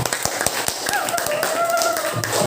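A classroom audience claps for a student group, sharp irregular claps ringing out close by, with voices mixing in over the clapping.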